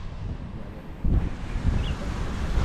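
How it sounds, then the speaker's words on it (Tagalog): Wind blows steadily over the sea at Dinahican beach in Infanta, Quezon, with muffled wave wash and rumbling gusts on the microphone that grow louder after the first second. "Ito po ang dagat ng Impanta sa Dinahican"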